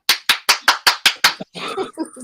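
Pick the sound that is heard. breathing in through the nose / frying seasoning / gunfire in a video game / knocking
knocking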